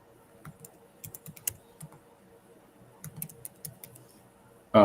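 Keys click on a computer keyboard in irregular bursts with pauses between them, close and fairly soft, ending with a brief louder knock.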